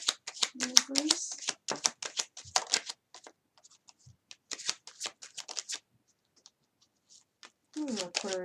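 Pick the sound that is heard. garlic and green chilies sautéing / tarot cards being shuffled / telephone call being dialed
tarot cards being shuffled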